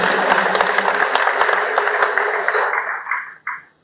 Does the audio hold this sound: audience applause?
yes